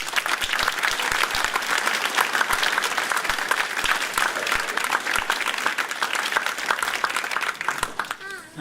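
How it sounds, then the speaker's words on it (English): Audience at an adult basic education graduation ceremony applauding for an honored educator, sustained crowd clapping with distinct individual claps audible, tapering off toward the end. "Please give her a round of applause."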